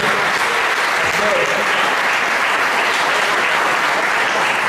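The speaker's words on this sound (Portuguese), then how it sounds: "Pode dar uma salva de palmas para o Senhor?" Congregation applause fills a church service, a dense, loud, continuous clapping wash lasting the whole stretch, with voices mixed into the crowd noise.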